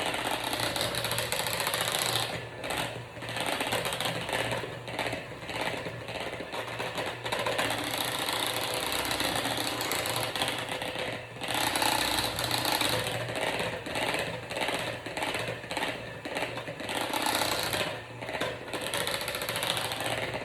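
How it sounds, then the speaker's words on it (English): Electric hand mixer beating mashed potatoes, a steady, moderately faint motor whir with rhythmic rattling from the beaters churning through the bowl, running continuously. "So now I'm going to really thoroughly mix the potatoes."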